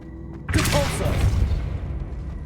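Depulso force spell in Hogwarts Legacy, a sudden heavy whooshing boom that bursts in near the middle and rolls on as a low rumble, loud and close over a faint game hum.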